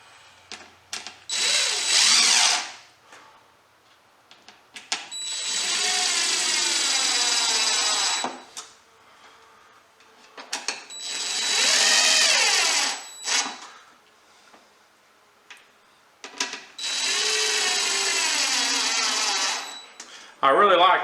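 Cordless power drill driving screws into a wooden Beecastle beehive box, running in four loud sustained bursts of a few seconds each with quiet gaps between, close up and without talk.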